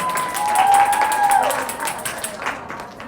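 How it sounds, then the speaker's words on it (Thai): An audience at a talent contest finals announcement claps and cheers, loudest early and tapering off toward the end, with a brief tone and some voices mixed in. "ขอเสียงปรบมือให้น้องเต้ยยองอีกครั้งครับ"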